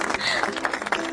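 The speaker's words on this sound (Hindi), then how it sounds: "तालियां क्यों बजा रहे हो आप लोग?" A group of people clapping during a scene in a Hindi-dubbed drama, with scattered, uneven claps mixed in under a voice.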